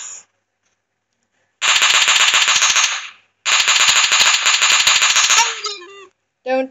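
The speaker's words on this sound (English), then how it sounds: "Someone shooting!" Rapid automatic gunfire from the battle royale game PUBG, two long sustained bursts of loud, crackling rounds separated by a short pause, ending with scattered shots and a brief voice.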